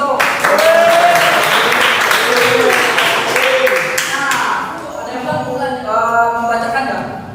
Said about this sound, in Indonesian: Ya, tolong beri tepuk tangan kepada Dito.